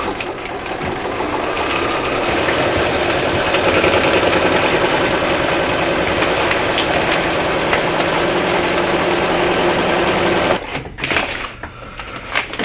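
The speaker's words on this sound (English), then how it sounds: "So I'm going to do a 5/8 inch seam." A sewing machine stitches a 5/8 inch seam on a feed sack bag in a steady, loud, close mechanical whir that runs unbroken for about ten seconds, then stops abruptly with a few faint clicks after.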